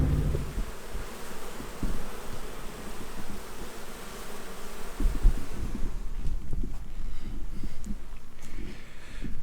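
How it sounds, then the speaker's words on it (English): A swarm of package honey bees buzzes in a dense, steady drone close to the microphone, with occasional wind and handling noise mixed in and a slightly thinner hum toward the end. "I don't know if you can hear them buzzing or not, but they're buzzing away."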